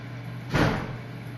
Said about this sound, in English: the doors are slamming around here